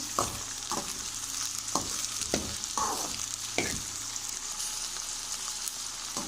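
Okra sizzling and frying in a pan while being stirred for a Multani bhindi dish, with a steady hiss and several sharp scraping stirs, close and fairly loud, no talking.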